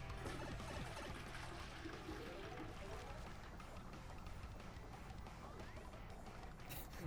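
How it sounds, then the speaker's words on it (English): A toilet flushes in Paper Mario: The Thousand-Year Door, a continuous rushing, gurgling water sound that stays fairly even and quiet throughout. "Why are they surprised to hear the sound of a toilet flushing?"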